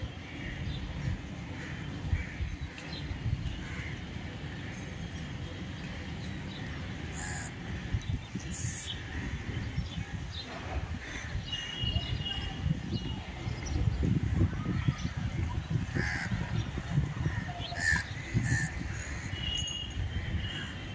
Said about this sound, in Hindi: सब कौवा ऊपर है